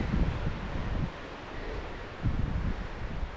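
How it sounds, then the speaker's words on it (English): Wind gusts buffet a sheltered woodland campsite, with bursts of low rumbling wind noise and rustling leaves coming and going against a quieter background hiss. "It's a bit windy, but we're sheltered."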